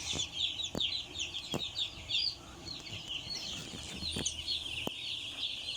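Three-day-old broiler chicks in a crowded farm brooder give a continuous, busy chorus of high chirps, with a few sharp knocks and thumps close by.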